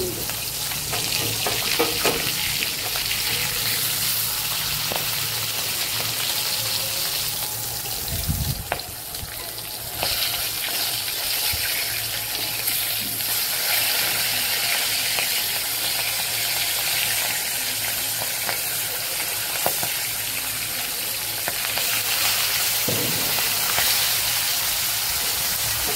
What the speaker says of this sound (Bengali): এবারে আমি মাছগুলো উল্টে দেব।